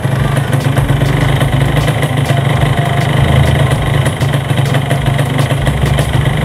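A Yamaha RX King two-stroke motorcycle engine runs loudly and close up, a steady buzzing idle with slight rises in revs throughout, no talking heard.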